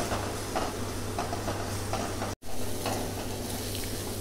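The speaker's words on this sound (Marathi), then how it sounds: "मसाल्याला सुद्धा आपल्याला 1 मिनिट छान परतवून घ्यायचं आहे." Masala frying in a pan for palak paneer, a constant close hiss and crackle of sizzling with faint scraping strokes of stirring and a steady low hum beneath.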